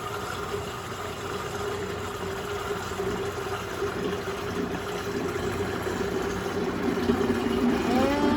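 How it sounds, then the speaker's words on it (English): A blender runs steadily throughout with a continuous motorized whir, growing slightly louder toward the end. "Start to cover as we fill up this blender"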